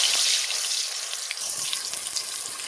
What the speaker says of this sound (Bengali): তেল গরম হয়ে গেছে, আলুগুলো দিয়ে দেবো